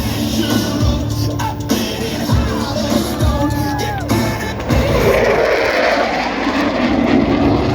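A USAF Thunderbirds jet on a knife-edge pass at an airshow at Joint Base Andrews, a loud, steady roaring engine drone that swells and fills the air, with a faint crowd and an announcer's voice underneath.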